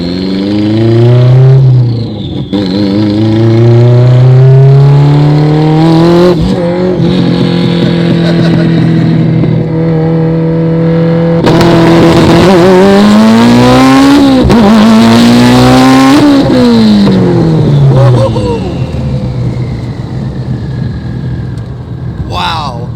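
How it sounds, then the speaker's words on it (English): Mitsubishi Evo X with rolling anti-lag on a second gear pull: loud engine roar climbing in pitch with sharp pops and bangs, then falling as revs drop, heard from inside the car. "So this time he's gonna do a 2nd gear pull with rolling anti-lag"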